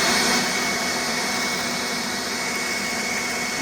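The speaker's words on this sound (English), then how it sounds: "I've been using my little blower here" A small blower runs steadily on a burning stump pile outdoors, giving a continuous close whooshing whine with a constant airy hiss and no pauses.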